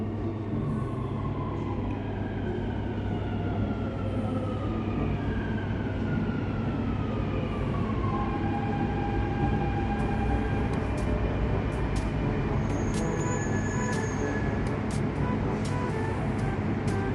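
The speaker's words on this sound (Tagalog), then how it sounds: "The train to Expo 2020 will arrive at platform 2." A Dubai metro train on the Expo 2020 line pulls into an underground platform, a steady loud rumble with rising and falling electric motor whines, plus faint chimes near the end.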